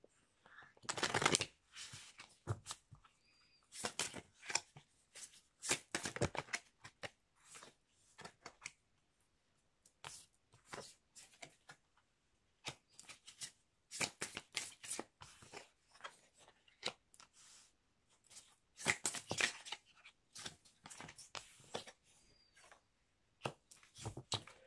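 Oracle cards are shuffled close up in repeated bursts of crisp riffling and flicking, separated by quiet pauses, with occasional soft whispering.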